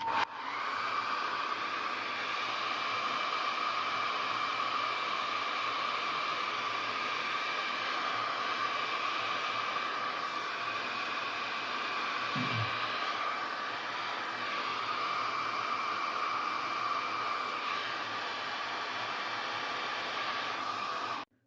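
A hair dryer blows on a watercolor painting of fishing boats, a loud steady whirring rush of air that runs continuously, with a brief low thump midway, then cuts off at the end.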